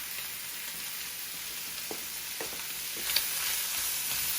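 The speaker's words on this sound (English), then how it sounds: "So you're going to let your shrimp cook. And butter makes everything great" Shrimp sizzle in butter on a stove turned to high, a steady bright hiss close by with a few faint taps and one small pop, no talking.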